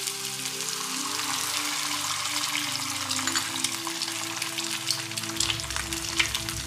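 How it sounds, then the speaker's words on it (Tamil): An egg omelette frying in chilli oil, with a steady close sizzle and crackle throughout and soft background music underneath. "ஆம்லெட் மாதிரி இப்போ நம்ம எக்கை போட்டு எடுக்க போகிறோம்"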